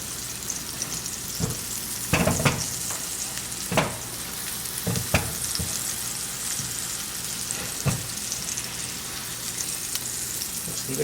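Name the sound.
salmon searing in a pan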